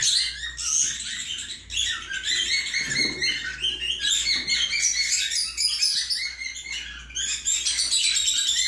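Cockatiel chicks kept indoors make dense, high-pitched chirping and squeaking, with repeated short calls overlapping almost continuously at close range.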